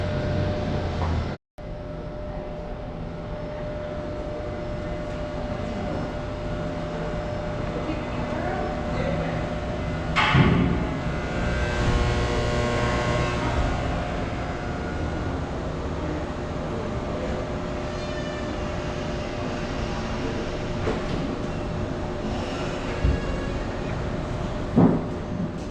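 Goldbelt Tram aerial cable car riding up the mountain in Juneau, Alaska, a steady low hum and rumble of the moving cabin with occasional clunks and a brief quiet voice.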